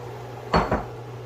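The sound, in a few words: seasoned shrimp added to a pan of veggies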